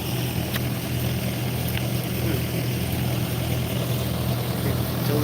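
A tractor engine runs on a farm during wheat loading, a loud, continuous low drone with a steady rumble and no breaks.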